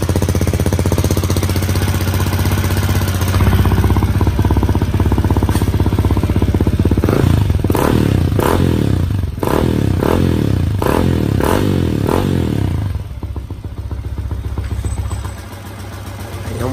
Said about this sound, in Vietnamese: Nổ máy tỉ tê cho anh em nghe thôi.